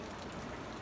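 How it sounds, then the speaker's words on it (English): Steady rain from the remnants of Hurricane Helene falls outdoors at a cattle pasture, an even, dense hiss with no pauses or voices. "It's raining."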